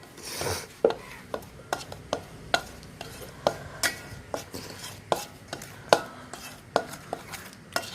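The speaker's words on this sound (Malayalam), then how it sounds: "ഇനി നമ്മുടെ സ്പൂണും കൊണ്ട് നല്ലോണം മിക്സ് ചെയ്ത് കൊടുക്കാം" A spoon mixes sifted mango cake batter in a bowl, giving a steady series of sharp, close taps and scrapes at a brisk, even rhythm with no voices.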